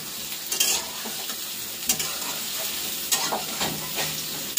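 Soybean chunks fry with salt and turmeric in a pan, giving a constant close sizzle punctuated by a few sharp stirring scrapes and light utensil clinks.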